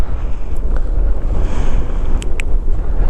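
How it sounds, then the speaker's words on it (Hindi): Strong wind gusting at a high mountain pass on the Srinagar–Leh highway in Ladakh, a loud, steady roar with rumbling buffeting against the microphone throughout, no voices. "और अब जो है बहुत ज़ोरों से हवा चल रही है क्योंकि हाई पासेस में जो यूजुअल होता है"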